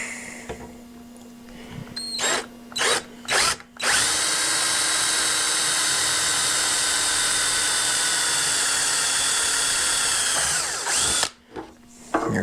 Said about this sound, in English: And then just drill it out.